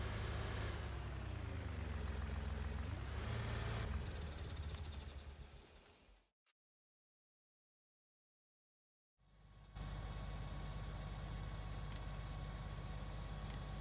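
A tractor engine in a video game rumbles steadily at a low pitch, cuts to silence for about three seconds, then resumes the same continuous drone.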